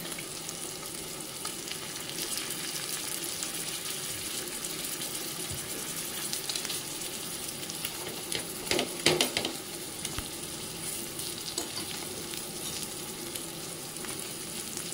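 Spicy paneer pieces fry in a pan, giving a steady, close hiss and crackle of sizzling oil throughout, with a brief clatter midway as the pieces are turned, and no talk.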